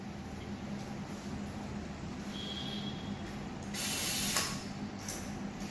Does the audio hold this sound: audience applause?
no